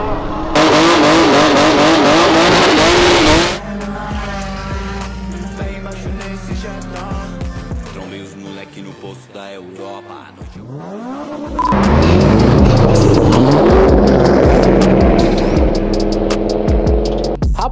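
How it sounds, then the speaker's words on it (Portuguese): A Nissan GT-R drifts loudly at close range, its engine revving hard with rising and falling pitch as the tires squeal, easing briefly mid-run before roaring back up; voices can be heard beneath the noise. "fazer um drift, o bagulho já foi pra um lado"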